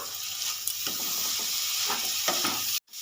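Turmeric and cumin powder being stirred in a hot frying pan, a steady close sizzle with scraping strokes of the spoon at intervals, cut off abruptly near the end.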